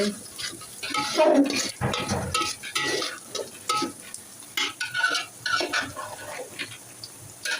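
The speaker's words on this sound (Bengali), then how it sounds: "পেঁয়াজ ভাজা হচ্ছে" Onions for khichuri fry in a pan, a continuous close sizzle with busy, repeated spatula stirring and scraping throughout, no voices.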